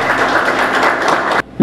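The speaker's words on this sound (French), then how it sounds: "Je vais demander pour que nous battions un applaudissement pour le cabinet" Applause from an audience at a Haitian national police promotion ceremony, a dense steady patter of many hands clapping at full loudness that cuts off abruptly near the end.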